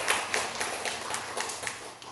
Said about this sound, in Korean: 박수 한번 해주시죠